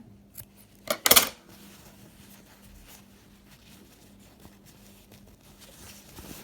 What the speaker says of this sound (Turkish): Bir parçasını bir miktar daha keseceğim ki burada çok fazla kalınlık olmasın. Tıraşlayacağım makasla iyice.